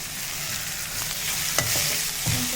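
Upma seasoning with salt, coriander and curry leaves frying in a pan, a continuous close sizzle with a couple of brief scraping stirs, no talking.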